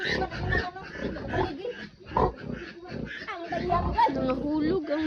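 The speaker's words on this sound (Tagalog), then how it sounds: "Nangahulog ang mga baboy" Newborn piglets that have fallen into a canal squeal in shrill, repeated bursts close by, mixed with excited overlapping human voices.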